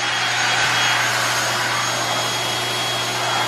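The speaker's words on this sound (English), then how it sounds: "these kids just love vacuuming" Children running a vacuum cleaner indoors, a loud, steady, close whine and roar that holds unbroken throughout with no talk.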